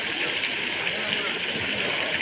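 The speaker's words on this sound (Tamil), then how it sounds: "இந்த தண்ணி அவுட்ரு வெளில போகிறது" Water flows out steadily in a continuous rushing, splashing stream, loud and close, with no pause throughout.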